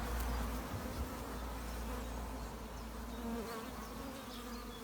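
A very busy honeybee colony, near a straw skep, gives off a dense, continuous buzzing hum of many bees close by, steady throughout with no talking.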